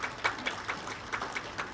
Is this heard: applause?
yes